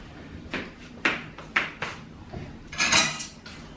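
Cups, forks and knives clink and clatter as they are set out on a table at home, several sharp separate knocks followed by a louder jangle of cutlery, with no talk.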